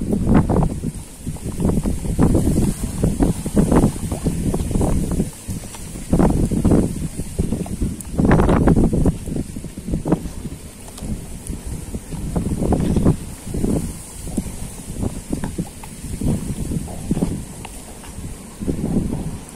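Wind blows steadily across the microphone at a wave-washed seaside spot used for mullet fishing, with low rumbling gusts buffeting throughout and no voices.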